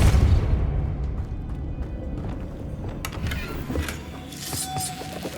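The Depulso force spell cast in Hogwarts Legacy: a heavy whooshing blast with a booming low rumble, followed by scattered crackling bursts and sharp pops as the effect hits, all game audio with no talking.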